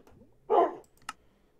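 A dog gives a single short, fairly close bark indoors, followed a moment later by a sharp click, with a quiet room in the background.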